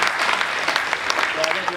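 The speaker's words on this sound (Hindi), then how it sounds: "इनके लिए एक बार जोरदार तालियां हो जाए।" A live audience at a Hindi poetry recital breaks into loud, dense applause that fills the moment, with a voice speaking briefly over the clapping.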